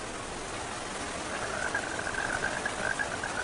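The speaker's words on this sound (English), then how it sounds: "I told you, it's raining" Steady rain hisses down evenly throughout, with a faint high chirping, like frogs or insects, rising through the second half. No one speaks.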